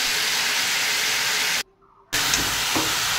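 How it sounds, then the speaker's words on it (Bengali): Chicken pieces frying in a hot pan give a loud, steady broadband sizzle and hiss that cuts out briefly midway, then resumes just as strongly, with no talking. "তো ভালো করে এটাকে আমি ভেজে নেব।"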